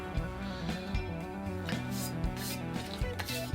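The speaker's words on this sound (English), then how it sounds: "240 grit sandpaper, and just by the weight of the leveling beam" Sandpaper of 240 grit on a leveling beam is rubbed along the frets of a Gibson Les Paul Custom guitar, a soft, close, repeated scratching rasp in short back-and-forth strokes.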